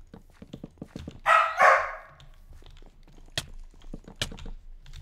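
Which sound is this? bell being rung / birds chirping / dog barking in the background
dog barking in the background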